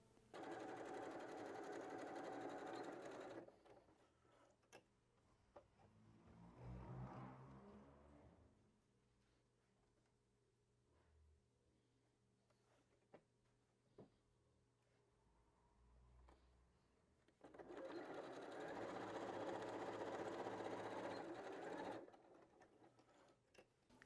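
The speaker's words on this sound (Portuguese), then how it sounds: "vai costurar os dois últimos para a gente passar para a próxima etapa" A sewing machine stitches a patchwork fabric braid for a small bag, running in two loud sustained bursts at the start and end with quieter handling noises between.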